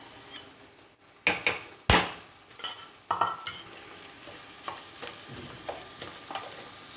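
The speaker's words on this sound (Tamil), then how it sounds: "இப்போ இந்த வேக வச்ச நல்லா குழைவாக வேக வச்ச பாசி பருப்பையும் போட்டு நல்லா கிளறிக்கலாம்." Cooked moong dal being stirred into a sizzling pan for sabudana khichdi, with a few sharp spoon scrapes and clanks early on, then softer continuous stirring and light sizzling close by, no talking.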